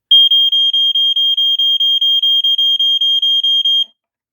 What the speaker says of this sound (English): it's lit constantly when the alarm is sounding